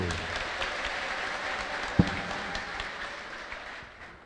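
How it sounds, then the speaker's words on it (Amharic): A church congregation applauding together, producing a dense, even wash of clapping with one sharp louder clap near the middle before gradually thinning out. "እስቲ ጭብጨባ አምጡ"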